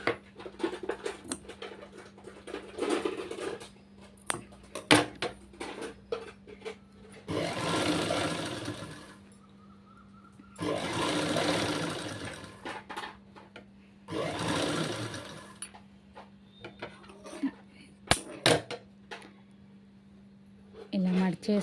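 A sewing machine stitches folded slippery lining cloth in three distinct bursts of whirring, rapid needle chatter, separated by quieter pauses filled with handling noises and someone speaking.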